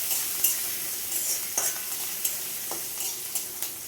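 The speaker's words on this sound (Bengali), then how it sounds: "তরকাটা আমি ভালো করে ভেজে নিই।" Curry leaves and white sesame sizzle in hot oil in a pan for a chira dhokla tempering, with a steady close crackle, a few sharper pops and light stirring clinks, no voices.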